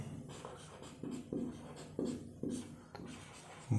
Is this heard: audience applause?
no